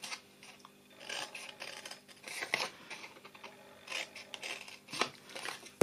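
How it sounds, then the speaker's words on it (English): Scissors cut up the score lines of a small paper craft box. The snipping and rasping of blades through paper is close and fairly soft, with no voices. "Now, you cut up those 4 score lines."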